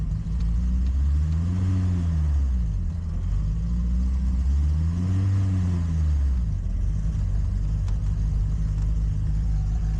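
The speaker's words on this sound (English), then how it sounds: "Well, you can see it's dying now. I'm trying to add throttle." A 1972 Fiat 850 Sport Spider engine with a fuel problem, faltering and stumbling as throttle is added, its low drone rising and sagging in two uneven swells over a continuous loud rumble.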